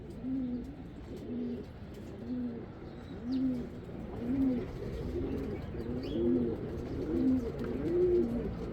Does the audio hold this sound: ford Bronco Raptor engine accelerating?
no